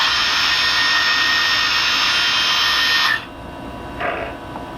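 The motors of a repaired DJI drone whine loud and steady at full speed, then cut off abruptly, followed by a brief quieter spin-up burst before fading.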